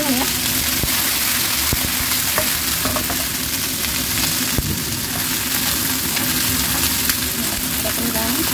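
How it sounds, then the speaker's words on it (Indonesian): Chicken wings fry in a little oil in a pan, a steady, close sizzle with occasional crackles and stirring scrapes running throughout, with no talking. "kita goreng-goreng sebentar ya. Kita goreng sedikit ya, kita goreng dengan minyak sedikit ya."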